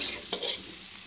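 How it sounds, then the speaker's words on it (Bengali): Cauliflower pieces frying in oil in a pan over low heat, a soft sizzle with a brief stirring scrape midway, quiet and close. "লো হিটে ফুলকপি ভেজে নেব"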